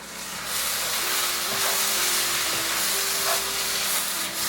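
Curry powder and spices sizzle steadily in a hot pan while being stirred into a tadka base masala, a continuous close hiss of frying with faint scraping and no talk.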